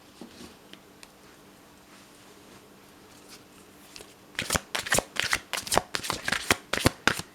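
A deck of playing cards is shuffled close up in a quick run of crisp riffling bursts over the last three seconds, after a quiet stretch with faint handling noise and no voices.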